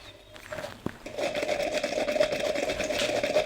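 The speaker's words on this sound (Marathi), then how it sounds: "इथे मी चॉपरमध्ये टाकून बारीक कांदा कट करून घेते." A motorized kitchen chopper whirs as onion is chopped finely, a short click followed by a rising buzzing motor that continues steadily to the end, with no talking.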